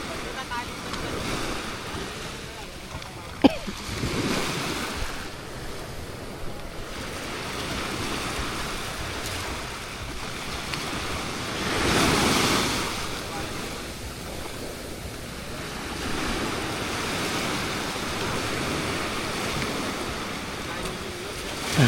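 Ocean waves wash onto a beach at dusk, a continuous soft surf wash with wind noise, swelling to a louder rushing surge midway, with a brief sharp knock early on.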